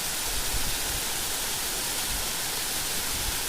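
Bonda waterfall roars as a steady, loud, unbroken rush of falling water close by, with no other sounds breaking through.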